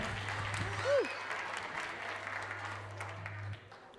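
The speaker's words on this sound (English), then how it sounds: "Another big round of applause." Audience applause at an outdoor Christmas telethon on a cold night, a fairly faint patter of clapping lasting several seconds with a low steady hum beneath and a brief voice sound near the start.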